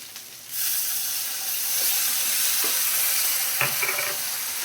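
Spice paste of salt, turmeric and cumin powder sizzles steadily in a pan after water is added, a constant hiss beginning after a faint start, with a few soft stirring scrapes near the end.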